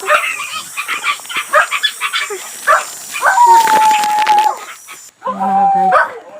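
Dogs barking outdoors at a rural mountain home, a run of repeated yips and barks from several animals, fairly close and loud, with some whining, and a person speaking briefly near the end.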